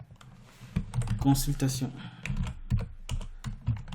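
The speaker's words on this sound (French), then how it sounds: "je vais juste écrire" Close typing on a computer keyboard during software development work, quick irregular key clicks running throughout, with someone speaking French briefly over the keystrokes.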